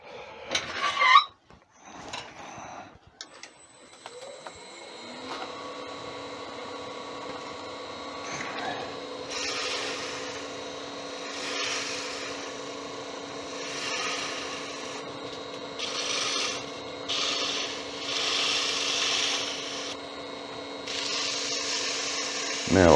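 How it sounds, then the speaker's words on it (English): Sandpaper held to the tip of a wooden wand spinning on a lathe, with a steady motor hum and intermittent rising bursts of abrasive rubbing; a voice speaks briefly at the start. "now I'll sand the tip"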